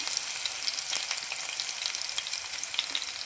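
Fenugreek seeds and about ten crushed garlic cloves fry in hot oil for an Andhra-style okra stew, a close, continuous crackling sizzle with scattered pops and no talk.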